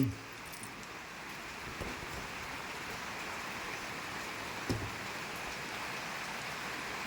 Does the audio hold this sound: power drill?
no